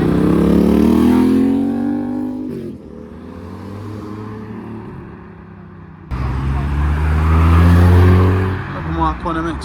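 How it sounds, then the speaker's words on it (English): A police car pulls out of the exit of a Japanese car meet in Reading, its engine droning and revving up, dipping briefly, then swelling louder and closer toward the end, with voices mixed in. "We have the police now leaving from the exit."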